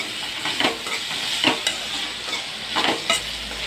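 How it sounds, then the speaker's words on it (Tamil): Beetroot frying in oil in a pan with a little salt, a steady close sizzle broken by periodic scraping stir strokes, loud and continuous with no voices. "பீட்ரூட்டு போட்டு கொஞ்சமாக உப்பு ஆட் பண்ணி நல்லா வதக்கிக்கலாம்"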